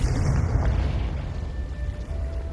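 A Confringo blast spell explodes in the game Hogwarts Legacy, a booming burst up front that settles into a deep, lingering rumble with a faint ringing tone.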